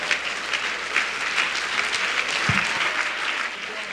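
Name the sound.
applause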